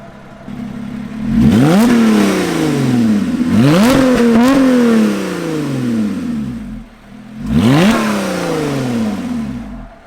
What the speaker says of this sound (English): there's no roof, so you can really hear the engine